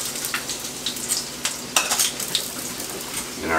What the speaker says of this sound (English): And we're done frying.